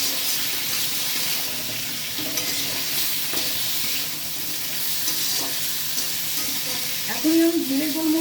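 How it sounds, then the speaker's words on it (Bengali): Water pours into a pan of simmering Rahu fish curry with a steady hiss and splash, followed by faint clinks and stirring close by. "এবার আমি জল দিয়ে দিলাম।"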